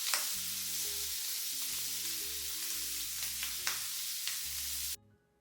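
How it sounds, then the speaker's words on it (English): Shrimp sautéing in butter in a pan for Vietnamese banh khot, a continuous close sizzle with a few sharp pops and soft background music, ending abruptly. "Then add butter and let it cook for about another minute."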